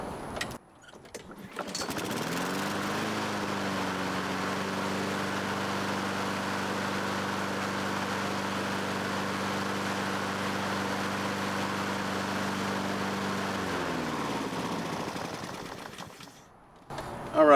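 Lawn mower engine starting up after blade sharpening, then running at a steady, even drone for about twelve seconds before winding down and cutting out, heard close.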